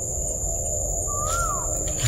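A single thin bird whistle rises and falls once amid a steady high insect drone and low outdoor rumble, the call faint and brief against the constant background.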